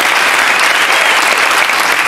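Loud studio audience applause on a French television game show, a thick, unbroken roar of clapping that fills the short stretch close and even.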